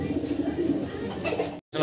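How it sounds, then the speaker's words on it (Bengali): A Lahori pigeon cooing close by in low, rolling throaty bursts that run continuously, cut off by a brief silence near the end. "এখানে আরো এক জোড়া চমৎকার লাহোরি কবুতর আপনাদেরকে দেখাচ্ছি"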